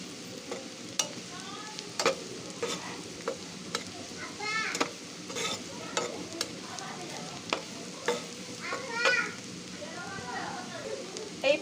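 Chopped onion fries with garlic in a pan, with a quiet, even sizzle broken by frequent clicks and scrapes of a stirring spoon and some soft speech underneath.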